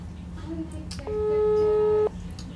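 A telephone dials a call, a single sustained electronic tone about a second long rising out of quiet room noise, with faint voices around it.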